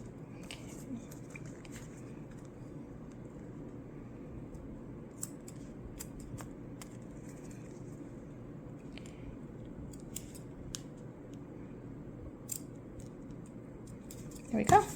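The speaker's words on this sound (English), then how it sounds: "I have my better scissors here, my good sewing scissors." Good sewing scissors snip through fabric in a string of faint, crisp clicks scattered across a quiet, steady background, with a slightly louder cut near the end.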